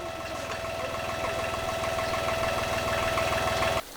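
An old tractor, nearly 30 years old and once unable to start, runs at a steady idle. The engine makes a loud, close, rhythmic knocking chug that continues evenly for about four seconds, then cuts off abruptly.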